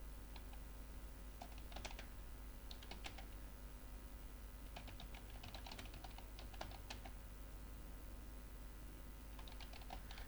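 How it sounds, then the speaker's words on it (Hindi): Computer keyboard typing in Microsoft Word, several short bursts of quiet, close key clicks separated by pauses, over a steady background hum. "लिखते जाएं, आप इंटर करते जाएं"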